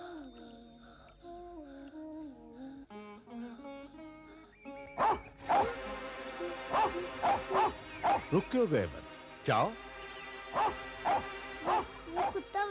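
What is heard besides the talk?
dog barking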